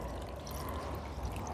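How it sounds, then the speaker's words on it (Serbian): A microfiber cloth is dipped into water, giving a brief, close sloshing and trickling wash of liquid that stays steady and fairly soft throughout. "da se potopi mikrofiber krpa"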